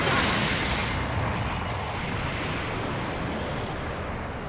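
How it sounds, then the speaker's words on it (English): A big explosion finisher in the Dragon Ball FighterZ fighting game erupts as a sustained, loud, roaring blast that fills the whole stretch and slowly tapers off. "I'm gonna finish with a big explosion"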